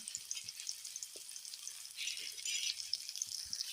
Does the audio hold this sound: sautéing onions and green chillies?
yes